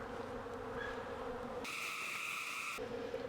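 Many honey bees buzz close by in a steady, droning hum, the pitch shifting as they swarm about during a beehive cutout.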